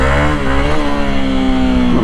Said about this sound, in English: A little power wheelie practice.